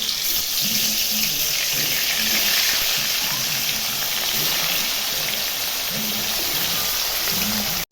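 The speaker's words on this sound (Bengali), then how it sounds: "মাছগুলো ভাজা হয়ে গেছে, উঠিয়ে নিব এখন।" Silver carp pieces coated in salt and turmeric frying in oil in a kadai make a dense, even crackling hiss, close and constant, with faint low knocks beneath.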